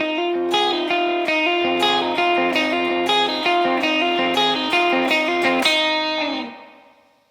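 An electric guitar plays a repeating riff of plucked notes, dry with no delay, into reverb with a reverb tail, loud and up front, fading out at the end.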